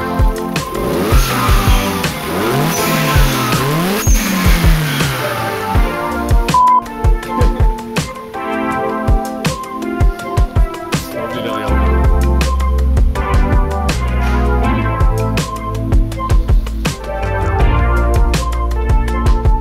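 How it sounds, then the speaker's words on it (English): A car engine revs and idles loudly with repeated sharp whooshing releases of air between throttle blips, close by and alone. "it sounds like they just installed this dump valve"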